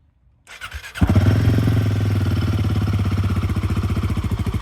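A motorcycle with its stock exhaust cranks and fires up, then settles into a loud, rapid, pulsing exhaust rumble close by.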